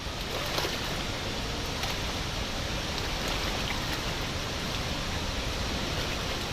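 Girmala waterfall, over a hundred feet high, thunders in full flood after four days of heavy rain, a dense, steady roar of rushing water that fills the scene without pause.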